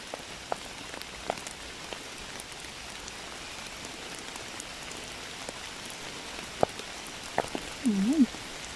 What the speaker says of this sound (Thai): ออกมาท่ามกลางสายฝน heute ist regnet